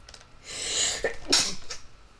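A single loud sneeze with a sharp inhaled buildup, followed by a quieter breathy exhale; no talking.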